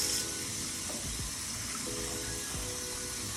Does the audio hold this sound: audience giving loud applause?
no